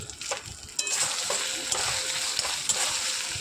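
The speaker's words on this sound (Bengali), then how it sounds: "আদা রসুন দুটো পেস্ট আমি দিয়ে দিলাম, দিয়ে একটু ভালো করে নাড়াচাড়া করবো" Ginger garlic paste being stirred into frying chana masala in a pan, a steady close sizzle with scraping stirs running throughout, no voices.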